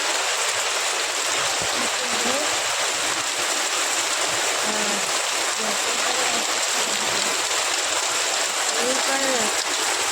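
Steady heavy rain pouring down during the monsoon, a dense continuous hiss close by, with faint voices and brief tonal sounds showing now and then under the downpour.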